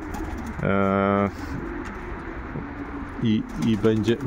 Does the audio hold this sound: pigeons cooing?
yes